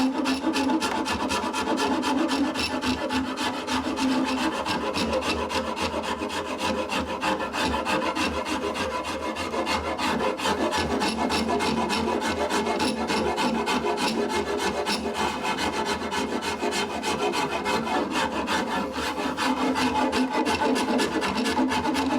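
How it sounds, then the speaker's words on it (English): Hand rasp working the wooden belly of a longbow, blending it into the handle: a continuous close, loud scratchy rasping of rapid strokes with no pauses. "We're pretty much there with the rasping"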